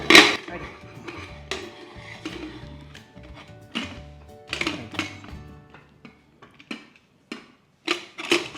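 Several sharp metallic clanks and knocks of a pressure cooker lid being handled and set in place, close up, with a pause before a few lighter taps.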